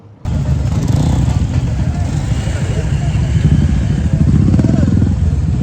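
A motorcycle engine runs loudly and steadily up close as the bike is parked at a crowded Castrol Power biker event on a Pune to Lonavla ride, with indistinct voices mixed into the rumble.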